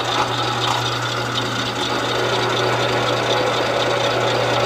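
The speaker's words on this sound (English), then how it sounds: "Okay, here's our two pieces of metal we just drilled a hole in." A drill press boring straight through two stacked pieces of metal, a loud steady motor whine with a low hum and grinding texture, continuous and close.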